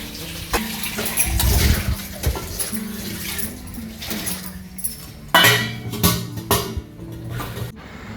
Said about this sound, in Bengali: বাসন কটা ধুয়ে এই যে কচু শাকটা ধুয়ে নেবো